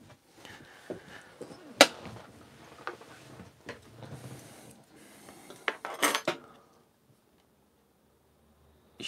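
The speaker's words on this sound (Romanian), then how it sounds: "Da, avem tacâmuri." Metal cutlery handled inside a motorhome during a takeaway restaurant meal, with scattered sharp clinks and rattles in irregular bursts close by, then quiet with no talk.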